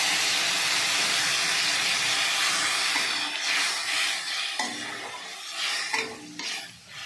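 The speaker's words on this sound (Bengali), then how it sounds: "এবার পরিমাণ মতো জলটা ঢেলে দিচ্ছি।" Water poured into a pan of taro stems cooking on the stove, heard as a steady loud hiss and sizzle that gradually softens and turns bubbly, with no talk.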